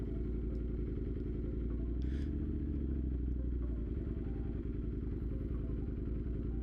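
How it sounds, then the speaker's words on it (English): A Ducati twin-cylinder motorcycle engine idles at a standstill, a steady low rhythmic throb that stays fairly quiet throughout, with a brief clatter partway through. "It sounds like a Ducati when you're stopped."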